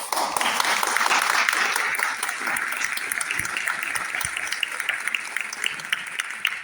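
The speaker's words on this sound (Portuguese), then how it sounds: "eu quero agora pedir uma salva de palmas para essas professoras" Applause for teachers at an in-person teachers' meeting, a dense crowd clapping steadily and loudly for several seconds, fading slightly toward the end.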